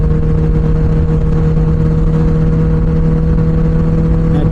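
A superbike's exhaust drones steadily and loudly while it is ridden, a constant engine rumble with a strong low hum and wind noise and no pauses.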